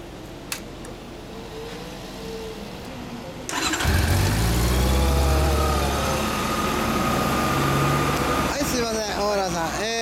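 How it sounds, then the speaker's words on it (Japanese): A 2014 Honda CB400 Super Four motorcycle engine cranks and fires up, then settles into a steady, loud, close idle with a low rumble that continues to the end, while a voice is heard briefly. "ごめん、エンジン音聞かせてもらえる？"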